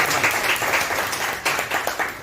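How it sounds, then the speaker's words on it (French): An audience applauds at a general assembly in Sédhiou, Senegal, with dense, steady clapping close by for a couple of seconds. "vous devez le féliciter et le remercier et l'applaudir."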